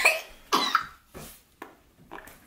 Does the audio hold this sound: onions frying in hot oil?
no